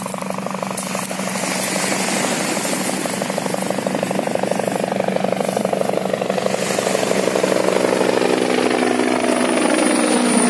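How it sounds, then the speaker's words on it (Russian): A helicopter's rotor thuds steadily overhead, loud and close, with faint voices briefly underneath. "О, вертолет."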